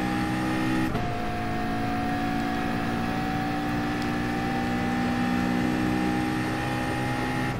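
Race car engines roar in Gran Turismo Sport at Circuit de la Sarthe, a loud sustained drone of several cars including a McLaren and a Honda running close together.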